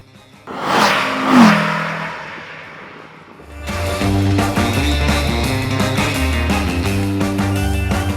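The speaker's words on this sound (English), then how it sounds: "I love carbureted engines, man. They sound so good. They sound very mechanical." Carbureted Porsche engine revving hard, a loud rising rev near the start, then a steady, dense mechanical roar with rhythmic engine pulses holding through the rest.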